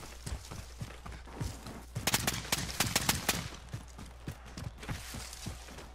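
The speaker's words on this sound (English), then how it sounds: "he's trying to shoot at us" Video game gunfire, a series of sharp cracking shots with a dense rapid burst in the middle, moderately loud and near, mixed with scattered footstep-like taps and no voices.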